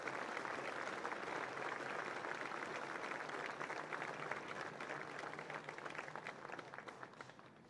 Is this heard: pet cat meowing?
no